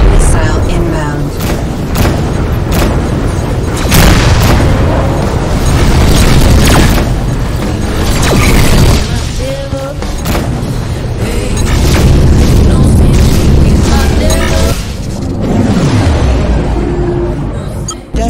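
Missile blasts from the space combat game Rebel Galaxy Outlaw, a run of heavy booms and bursts over dense engine and weapon noise, loud and sustained, with a radio voice talking over parts of it.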